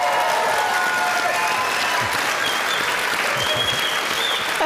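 A church audience gives dense, continuous applause with some cheering to welcome a new teacher, steady and loud throughout with no talking.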